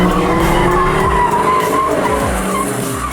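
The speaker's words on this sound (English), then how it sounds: "these guys are out here turning laps in these 700 horsepower Hellcats" Dodge Challenger Hellcat race cars of about 700 horsepower skid on a racetrack while lapping, with loud continuous tire squeal and engine roar close by throughout, and no talking.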